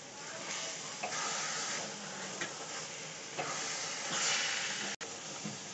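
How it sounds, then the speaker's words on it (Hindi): Carrot halwa with chopped cashews and almonds being stirred in a pan, giving a steady sizzling hiss broken by a few soft scraping strokes, close up with no voices. "अब हम इसमें हमने जो काजू बादाम कट कर रखे थे वो ऐड करेंगे। इन सभी को अच्छे से मिक्स कर लेंगे हम।"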